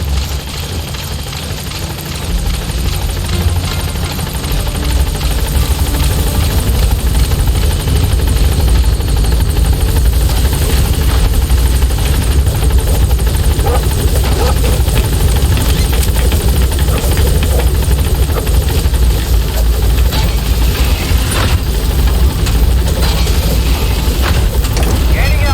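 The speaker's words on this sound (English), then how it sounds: "Support helicopter has arrived." Support helicopter Pequod in Metal Gear Solid V, a loud, close, continuous rotor and engine roar with deep throbbing low end that holds steady throughout.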